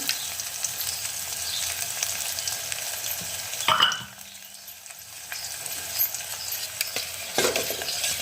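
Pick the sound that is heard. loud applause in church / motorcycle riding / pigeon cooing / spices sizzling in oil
spices sizzling in oil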